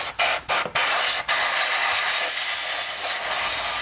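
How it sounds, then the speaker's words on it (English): Garden hose water rushes through the heater core of a Mazda RX3, a loud steady spraying hiss cut by several abrupt stops and starts early on before flowing continuously. "we're gonna hook this up to some garden hose and see some flow."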